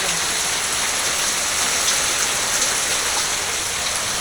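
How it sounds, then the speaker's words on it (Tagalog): Heavy rain pours steadily in a dense, unbroken hiss, pattering hard on surfaces nearby with no voices. "napakalakas nga po ng ulan"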